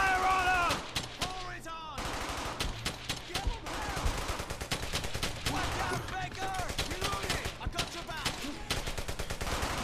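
Rapid bursts of gunfire crackle throughout a battle in Brothers in Arms: Hell's Highway, a WWII shooter, with machine-gun volleys and single shots overlapping game voices.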